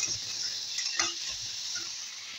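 Prawns fry in hot oil in a wok with a steady bright sizzle while a utensil scrapes and taps through the stirring, close and continuous.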